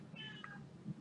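A house cat meows indoors, a short drawn-out cry at moderate volume over a faint room background, with a softer low murmur near the end.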